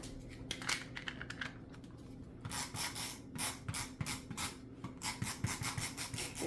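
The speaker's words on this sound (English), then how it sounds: "we're going to use the repo tape all the way down both sides of this" Green repositionable tape pulled and pressed down along both sides of a quilt border, giving soft rubbing and crinkling strokes in uneven bursts, close and quiet with no talking.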